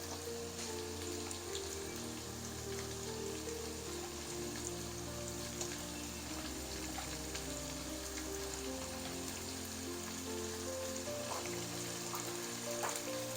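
Goat liver (kaleji) frying in a pan, a steady, dense sizzle like rain that carries on evenly throughout with faint crackles and no talking.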